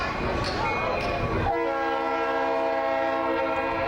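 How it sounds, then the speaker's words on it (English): A passing train near a baseball field sounds a long sustained horn blast over steady rumbling, loud and close, following a stretch of rattling noise. "There's that darn train again."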